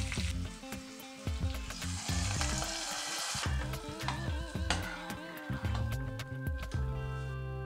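Hot tempering of dried red chillies, asafoetida and curry leaves poured into bottle gourd dal, giving a loud burst of sizzling and crackling that settles into steady frying with stirring clinks, fairly faint overall.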